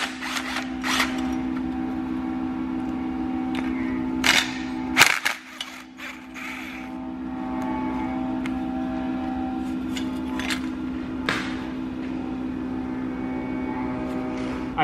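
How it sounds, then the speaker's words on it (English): Hand tools work on the two 10 mm bolts of a bracket on a BMW M54 engine being disassembled, giving sharp metallic clicks and clanks, clustered around the middle, over a steady background hum. "So let's go and remove the two 10 millimeter bolts."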